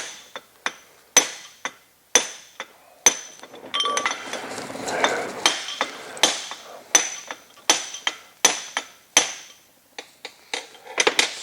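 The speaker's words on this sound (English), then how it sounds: "flip my extension over and beat that down" Metal hammer blows beating an extension on a transmission part flat, a steady series of sharp ringing strikes close by with clinking metal in between, at times in fast clusters.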